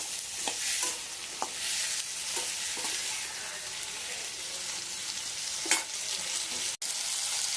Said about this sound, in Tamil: நல்லா வதக்கணும் தக்காளியை